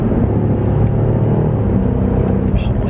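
Alpina B5 Bi-Turbo super saloon accelerating hard, a loud, steady low engine rumble and road roar filling the clip with a voice talking over it near the end.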